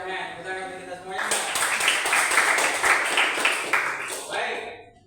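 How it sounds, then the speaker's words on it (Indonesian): A group of people clap together in a classroom-style setting, a dense burst of hand claps starting after a second of talk and running steadily for about three seconds before fading out. "Tepuk tangan untuk kita semuanya."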